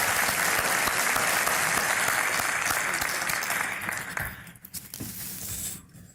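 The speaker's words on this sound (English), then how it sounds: "I'd like to stand here in front of you and give you a round of applause" A large breakfast crowd at a State of the City and County event applauds OMU employees, dense and loud for several seconds before thinning out to scattered claps.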